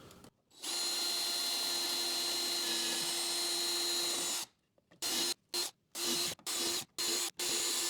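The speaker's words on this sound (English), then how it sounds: "put the shelf pin jig right here on top of the spacer and then go ahead and start drilling my holes" A power drill bores shelf pin holes in a cabinet side through a shelf pin jig: one long loud whirring run, then a pause and several short sharp bursts in quick succession, close and without talk.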